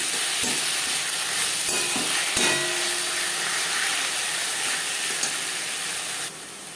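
Onions frying in oil with ginger and green chili paste, heading into a Bengali katla fish head dish with gobindobhog rice: a close, constant loud sizzle with occasional knocks of a stirring spoon, no talking.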